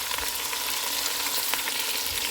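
Steady, close sizzling of chopped onion, ginger and garlic frying with masala in a pot for a Punjabi-style mutton stew, a continuous hiss with no talk.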